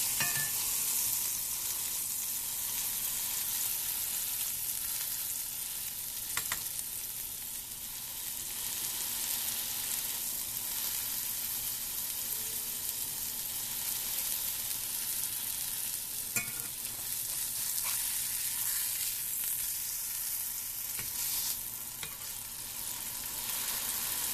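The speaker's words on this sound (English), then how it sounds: "Make sure the edges are seared." A burger patty sears in a hot pan with a steady, dense sizzle and crackle that runs continuously at close range, broken by occasional scraping or stirring clicks.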